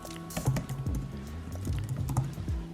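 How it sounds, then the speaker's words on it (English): Rapid uneven keystrokes on a MacBook Air M3 keyboard, close and clear, with bursts of clicky taps running steadily throughout and no talking. "I'm actually a chicken typer, like I peck like a chicken beak."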